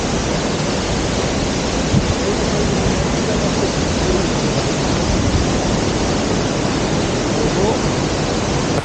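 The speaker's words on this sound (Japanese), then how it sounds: "滝の迫力が半端ない。" Waterfall at the Niko-buchi pool in Kochi, a steady loud rush of falling water that fills the scene evenly from start to finish.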